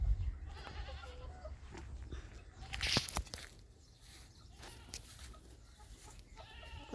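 Goats on a green farm with chickens around give a few bleats at moderate distance, mixed with rustling, handling noises and a sharp clatter, over a low outdoor background with no talking.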